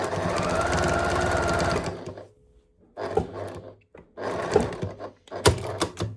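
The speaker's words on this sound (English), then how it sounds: "All we're doing is stitching all the way around until we get to that last clip" A home sewing machine stitches around the edge of a towelling fabric piece, running in a steady whirring burst, pausing, then restarting in short uneven runs with clicks between them.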